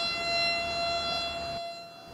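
Emergency warning siren sounding a steady tone, heard alone at moderate level, cutting off near the end.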